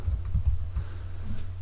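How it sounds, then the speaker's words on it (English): Typing program code on a computer keyboard, a quick run of soft, dull key taps close by, irregular and fairly quiet. "This is where you type in your program code, so I'll type in something simple."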